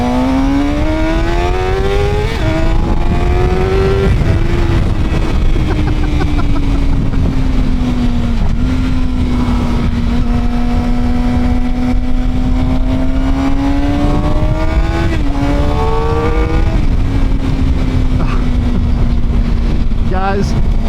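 A Suzuki GSX-R 750 motorcycle being ridden, its engine droning loud and close with pitch rising and falling through gear changes, alongside steady wind rush throughout.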